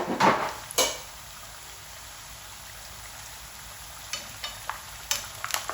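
Chicken frying in a pan over low heat, a soft steady sizzle with a few sharp pops and spatters near the start and end, no talking.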